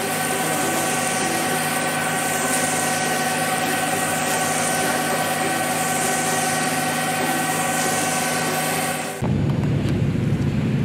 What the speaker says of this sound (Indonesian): Wow, lihat teman-teman, ada mobil truk molen